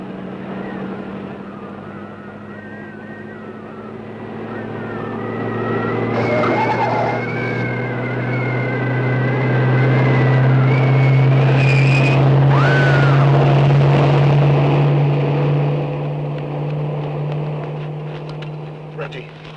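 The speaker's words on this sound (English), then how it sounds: "Here comes a car!" A car approaches on a desert road to Mesa Flat, its steady engine drone swelling louder toward the middle and lingering near, with brief overlapping voices and a music bed.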